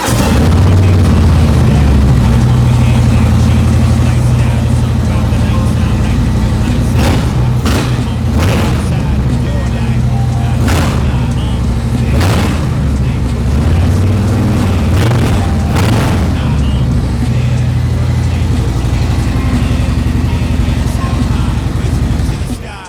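A motorcycle fitted with a Trust Performance exhaust runs loud and close, its dense idle broken by a series of sharp throttle blips and crackling bursts spread across the stretch.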